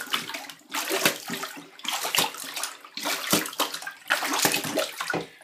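Laundry is hand-washed in a bathtub of vinegar water, with repeated close sloshing and splashing surges in an uneven rhythm as the clothes are worked through the water.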